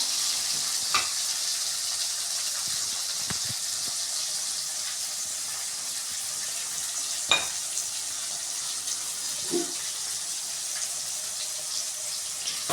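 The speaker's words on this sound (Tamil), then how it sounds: "தக்காளி போட்டு நல்லா வதக்கிக்கலாம்." Tomatoes sauté in a hot pan, giving a steady, even sizzling hiss throughout, broken by a few faint scrapes and clicks of a spoon.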